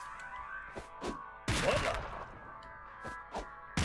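Several sharp firecracker bangs pop in South Park: The Fractured But Whole, one louder crackling burst in the middle and smaller pops around it, over a steady background hum.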